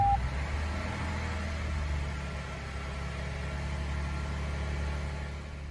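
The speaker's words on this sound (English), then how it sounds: "Start the truck and let it run for a couple of minutes to circulate the oil through the engine" A 2022-2024 Toyota Tundra engine idles steadily after an oil change, a low even hum with faint mechanical whir, close and continuous with no talking.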